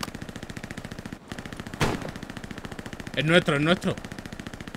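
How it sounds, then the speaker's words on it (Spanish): Machine-gun fire in the World War II shooter Hell Let Loose at El Alamein: a long, even stream of rapid shots rattles throughout, while a player's voice talks over it. "Ametralladora."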